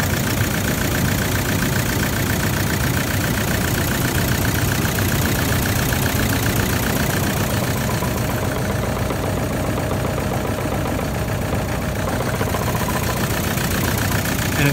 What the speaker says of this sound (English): That is a cracked piston.